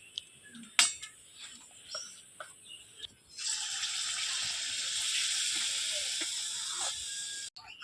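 Steady sizzling hiss of palm malpua pancakes frying in hot oil, starting after a few soft clicks and holding loud and constant for several seconds before cutting off abruptly.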